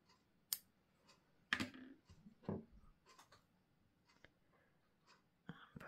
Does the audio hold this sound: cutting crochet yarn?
yes